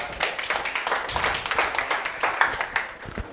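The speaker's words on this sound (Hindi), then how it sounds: "सबीना मीना के लिए बहुत बहुत तालियां भाई।" An audience claps in steady applause for a student being honoured at a coaching institute's ICAR selection celebration; dense, continuous hand claps with some sharper individual claps standing out nearby.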